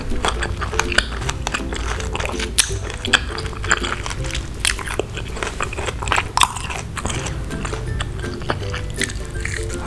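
Close, loud crunchy bites and chewing of fresh rujak fruit, mango among it, in a Palembang eatery, a rapid series of crisp crunches repeating throughout with no talk.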